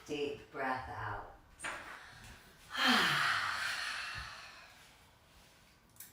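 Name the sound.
deep breath out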